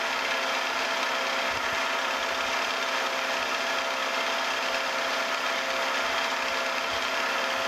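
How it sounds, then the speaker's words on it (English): A number 7 drill bit boring through a metal flat-belt lubricator pulley during machine restoration work, a loud, steady, close machine whir that runs unbroken from start to finish. "All right, let's drill that through."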